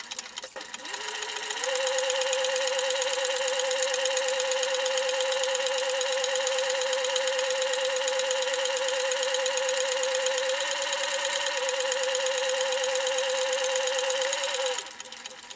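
A sewing machine stitches along a folded edge of a backpack with the lining side up, running as one steady, even mechanical hum for about thirteen seconds, then stopping.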